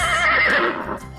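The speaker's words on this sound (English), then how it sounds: "Horse," A horse gives a single loud, clear whinny that rises and then trails off over about a second, heard alone with no talking.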